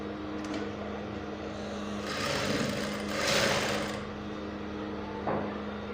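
A sewing machine runs a half-inch seam on a peplum top, a steady mechanical whir with a low motor hum that swells through the middle and eases off, close and alone.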